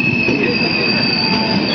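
A passenger train arrives at a station on the route to Shegaon, India, with loud, continuous steel wheel squeal and rumble close by, no talking over it.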